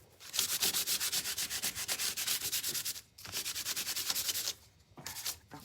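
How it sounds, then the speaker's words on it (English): Galvanized aluminum is scuffed by hand before painting, giving a close, steady stroke of rapid back-and-forth rasping rubs, with two short pauses between runs. "So I want to scuff it and just give it a little tooth."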